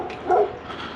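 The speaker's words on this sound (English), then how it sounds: "Dog saying hello to us." A dog out on a street during curbside scrap collecting gives one short, greeting bark or yip. It is close and moderately loud over low outdoor background noise, with no talk over it.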